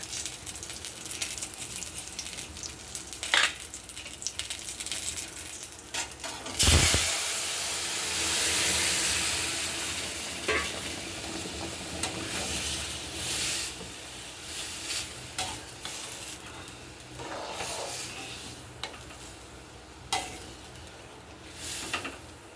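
Food fries in hot oil in a kadai and a spoon stirs it, giving a close, sustained sizzle with scraping and clattering strokes. A sharp burst of louder hissing and steam comes midway, with no speech.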